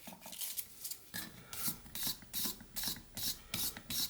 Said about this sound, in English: I'm just going to finish up with this 600 grit